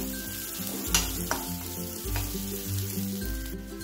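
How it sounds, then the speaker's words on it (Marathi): Chopped onions sautéing in a pan for stuffed masala brinjal, a steady close sizzle with a few sharp clicks of stirring, and a low hum beneath, no voices. "यामध्ये टाकू कांदा, सोनेरी रंग येईपर्यंत आपण छान परतून घेऊ"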